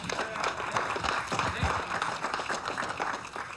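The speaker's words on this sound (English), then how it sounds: "can I have a big round of applause?" An audience applauds at a fishing show event, a dense, sustained wash of clapping from a crowd at moderate distance, continuing evenly without a break.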